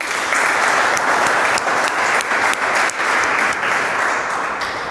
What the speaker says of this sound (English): Please clap for Nikita.